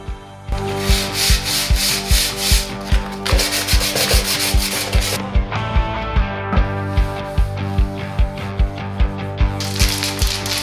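Steady rhythmic sanding of a Mazda RX-7 intercooler, a rough scraping stroke repeated about twice a second, close and fairly loud, with no talking.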